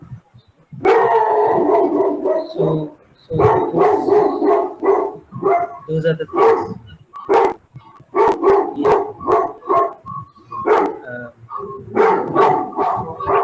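A pet dog barks and howls insistently close by in a home, a long series of loud, rhythmic barks with howling notes, while a person speaks briefly over it.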